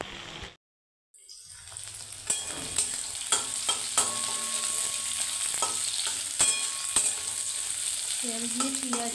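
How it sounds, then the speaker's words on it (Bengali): Onion fries in hot oil with a steady, close sizzle, broken by several clinks and scrapes of a spatula stirring in the pan; no voices. "তেল দিয়ে পেঁয়াজটা ভেজে নিচ্ছি"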